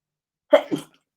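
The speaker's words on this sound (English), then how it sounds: "I apologize straight away if I'm sneezing a lot" A single sneeze from someone suffering from hay fever, close and loud, with a sharp burst followed by a quick second gasp, in an otherwise silent moment.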